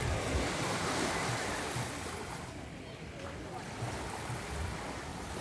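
Water waves washing in nearby, a steady broadband rush with gentle swells and some wind noise buffeting the microphone, fairly faint and continuous with no talking.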